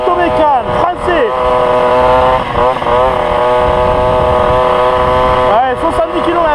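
A Motobécane AV10 chopper moped runs loud and close, its small two-stroke engine buzzing and revving up and down, with voices talking over it.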